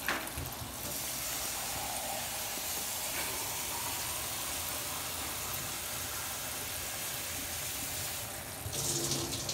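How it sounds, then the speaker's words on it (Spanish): Water pours steadily into a cooking pot for rice, a continuous broadband rush that runs for nearly ten seconds with a brief shift near the end, and no voices. "Le vamos a echar otra de agua."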